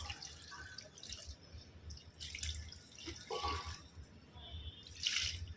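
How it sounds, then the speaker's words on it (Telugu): Water splashes and trickles softly as it is poured into a freshly soiled plant pot in a new home rooftop garden. The sound is faint, with small drips and gurgles. "ఇప్పుడు వాటర్ ఫుల్గా పోసేసుకుంటున్నాను"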